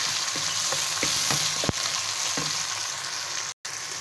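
Taro (arvi) and tomatoes frying in a pan, a steady close hiss of sizzling oil broken by several soft knocks of a stirring spoon, with no talk.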